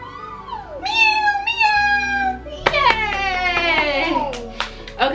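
A toddler imitates a cat's meow with a few drawn-out, rising and falling cries at bedtime, close and fairly loud, with an adult's voice nearby.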